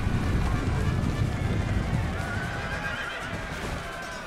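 Horses neigh and whinny amid the din of a cavalry fight in the Empire: Total War battle game, with a hoofbeat-like rumble and dense battle noise underneath.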